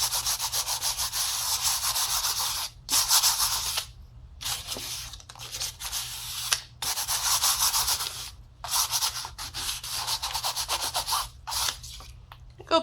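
Smooth sandpaper rubs over an art canvas in a series of close, scratchy strokes, each a burst of dry abrasive rasping separated by brief pauses, in an uneven back-and-forth rhythm.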